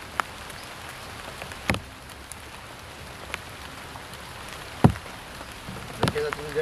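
Steady rain pattering on a surface nearby, a constant wash of noise broken by a few sharper knocks and drips.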